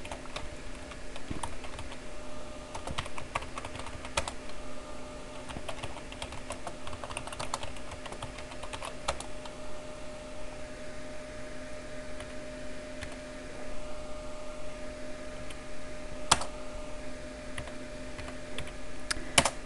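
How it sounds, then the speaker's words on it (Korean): Steady, quiet tapping on a computer keyboard as data is typed into spreadsheet cells, with irregular runs of light keystrokes and occasional firmer key presses over faint background hiss. "제가 그 A1 셀에 데이터를 입력하고 엔터를 치고 내려와서 데이터를 입력해 보았습니다"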